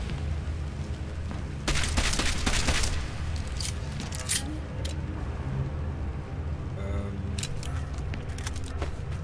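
Gunfire in the video game Deus Ex: Mankind Divided comes as a rapid burst of sharp shots, followed by a few scattered single cracks over a low background hum.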